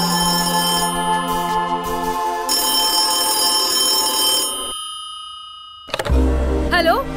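A telephone rings in a Hindi children's cartoon, a steady electronic ring with sustained tones that carries for several seconds, then cuts out and leaves a short quiet gap before new sounds and a brief voice.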